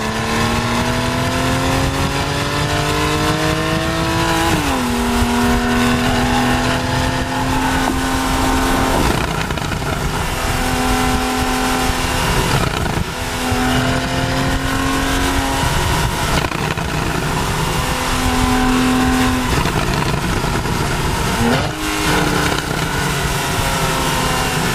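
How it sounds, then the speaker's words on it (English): A Porsche 911 GTS with a 430-horsepower engine revs loud and close, its pitch climbing and dropping in repeated rising pulls and brief holds at steady revs. "the new 430 horsepower GTS engine is a wonder. It sounds fantastic."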